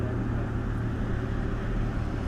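A 250cc motorbike engine idling or running nearby, a steady low rumbling drone with constant wind-like noise and no breaks.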